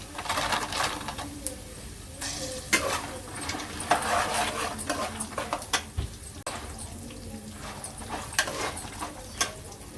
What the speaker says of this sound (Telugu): శనగపప్పు వేసాను ఇప్పుడు జీడిపప్పు కూడా వేస్తున్నాను